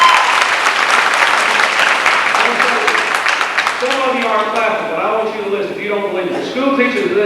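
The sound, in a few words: audience clapping at a political speech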